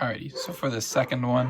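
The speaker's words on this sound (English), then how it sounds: "I apologize for my dog barking." A dog yips and barks in short bursts close by, mixed under a person talking at the same time.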